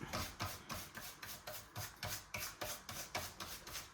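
Homemade glazing is rubbed and polished into a leaded stained glass panel by hand, giving a quiet, rhythmic scrubbing of back-and-forth strokes, about three per second, close up with no talk.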